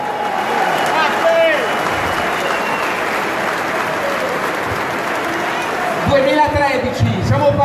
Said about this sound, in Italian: Io vi chiedo ancora un grandissimo applauso per Del Debbio e Matteo Salvini